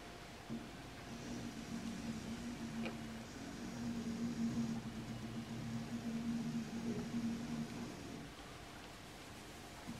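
A costycnc foamcut CNC hot-wire machine with an 85 cm heated wire cuts a profile from polystyrene, giving a faint, steady motor drone that shifts pitch slightly in steps over a quiet room background.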